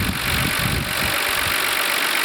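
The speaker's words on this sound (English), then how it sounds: "the engine seems to run very nicely, better than most of the R32s that we sell" A 1990 Nissan Skyline GT-R R32 with its RB26DET twin-turbo straight-six idles steadily and close by, a smooth continuous engine rumble with no voices over it.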